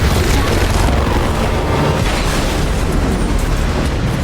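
A gunshot from The Walking Dead: The Ones Who Live, heard as a loud, dense, booming blast that fills the whole clip with sustained rumbling and no clear separate shots.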